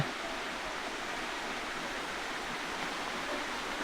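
Steady broadband rushing of the third tier of the Chan Ta Then waterfall in Chonburi, a constant even roar of falling water, moderately faint, with no voices.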